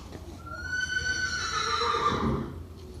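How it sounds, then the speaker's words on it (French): A horse whinnies, a single long, fairly close neigh that rises and then falls over about two seconds, heard over faint stable noise. "je voulais vous montrer comment je brosse un peu mon cheval"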